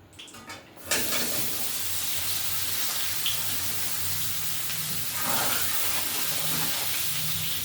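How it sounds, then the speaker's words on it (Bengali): Green jackfruit and potato pieces are dropped into hot oil in a village kitchen pan, setting off a loud, steady hiss of frying that continues evenly after a brief bump of handling. "এবার এঁচোড় আর আলুটা ভেজে নেবো।"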